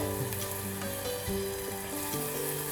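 Spice masala with tomato sautés in a pan for Bengali aloo dum: a steady hissing sizzle with occasional stirring, and soft tonal music underneath.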